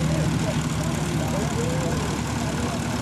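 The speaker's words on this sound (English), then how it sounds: "As the glider is coming, two being pulled by one plane." At the Little Gransden Airshow in 2007, a single propeller plane towing two gliders gives a steady, broad engine drone that fills the whole stretch, with a voice speaking over it.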